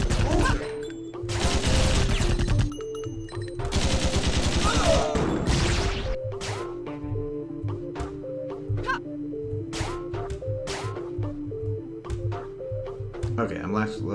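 Weapon fire in the side-scrolling game Iji: two long bursts of dense, rapid shots, then scattered single cracks over a looping electronic soundtrack.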